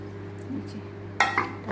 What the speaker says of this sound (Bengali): দাঁড়াও এই বাটিটাতেই নামাবো।